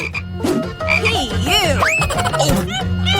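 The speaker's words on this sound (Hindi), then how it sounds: "ये तुम्हारा मेंढक है" Loud, close frog croaks repeat in rough bursts, with warbling, rising calls layered over a low throbbing drone.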